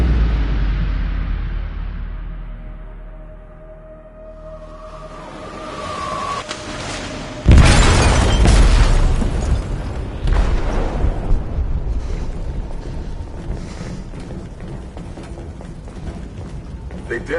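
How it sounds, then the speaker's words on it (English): Explosion in a ship's hold in the video game Detroit: Become Human, a sudden loud boom that breaks in partway and leaves a long rumbling, clattering aftermath under game music and effects. "They detonated an explosive in the hold."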